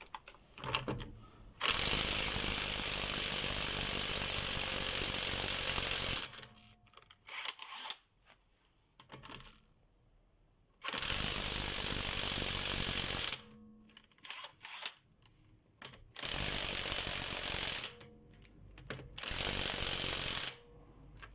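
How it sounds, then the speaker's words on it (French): A cheap AliExpress impact wrench works on the brakes of a BMW E60 during a disc and pad change, giving several loud, sustained, buzzing hammering bursts of a few seconds each, separated by quieter handling noises. "Alors je prends ma petite clé à choc Made in AliExpress."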